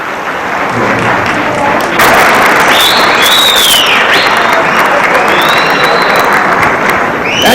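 A large audience applauds continuously at a 1989 stage show featuring Hema Malini in Holland, dense clapping with scattered whistles and cheers throughout, rising a little louder after the opening seconds.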